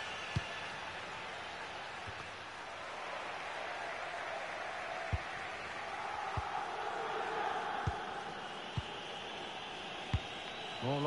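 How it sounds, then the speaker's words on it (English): A stadium crowd in a football video game roars as a broad, steady wash of cheering at moderate distance, with sharp thuds and claps now and then rising above it. "The crowd have really got behind them today."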